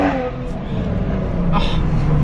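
A tuned 550 bhp Toyota Supra engine revs hard and steadily, a loud, sustained mechanical roar close by with no talking.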